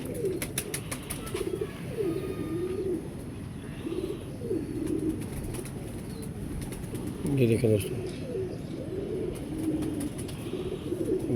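Indian pigeon cooing in repeated low, rolling phrases close by, with someone speaking over and between the coos and faint chirps in the background.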